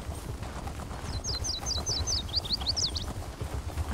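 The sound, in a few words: horse hooves while riding, from the video game The Elder Scrolls Online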